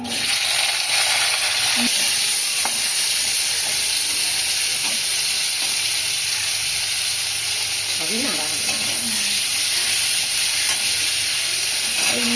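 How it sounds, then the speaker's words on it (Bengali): Green beans dropped into hot oil in a kadai, frying with a steady, loud sizzle and hiss throughout, with occasional stirring scrapes and clinks near the middle. "কড়াতে তেল দিয়ে দিয়েছে এবার একে একে শিম"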